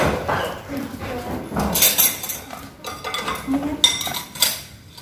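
A knife scrapes and clinks against a hard birthday cake and plate at a sweet seventeen party, a series of sharp metallic taps and scrapes at close range, with murmured voices in the background.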